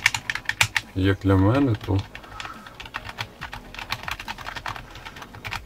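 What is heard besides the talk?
typing on A4Tech Fstyler FG1010 wireless keyboard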